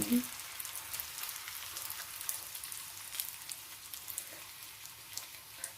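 Pork-filled wontons crackle and sizzle steadily in hot oil, a dense, continuous frying hiss with small popping bursts throughout, fairly close and without talk.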